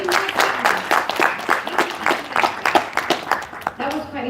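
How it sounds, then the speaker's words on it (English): An audience gives a round of applause during a live session, with scattered individual claps and overlapping voices throughout, moderately loud and fairly close. "A round of applause again, please, with a little more excitement."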